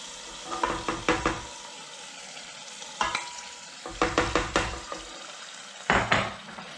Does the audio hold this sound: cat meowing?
no